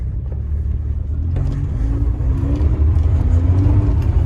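A cheap, aging manual Honda Accord, low on gas, pulls away under its own power once the clutch is let out. Its loud, steady engine rumble and whir build slightly as it moves off, close by, with no talking.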